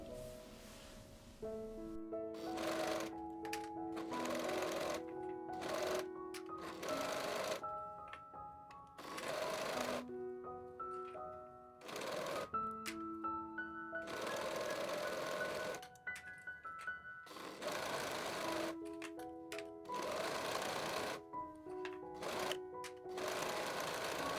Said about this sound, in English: then I will sew the panels together to create a front and a back piece